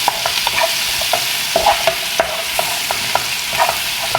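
Meat sizzles in a pan with spices, turmeric and garlic, a constant frying hiss broken by frequent sharp stirring clicks and scrapes close by.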